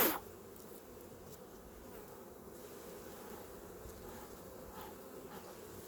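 Bees drone steadily around a beehive as they are smoked off the top before the insulated lid goes back on, a faint, even, continuous hum with no voices over it.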